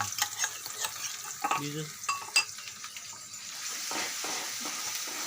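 A tomato, chili and masala mixture for Kathiyawadi brinjal bharta is stirred in a pan, with close scraping strokes over a soft, steady sizzle; a voice briefly speaks.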